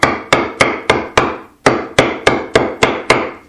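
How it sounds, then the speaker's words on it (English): A piece of pine taps the back of a backsaw blade during repair of a bent saw, giving about eleven sharp, evenly spaced wooden knocks with a short pause midway, close and clear with no talking. "we're just going to give the blade a little tap"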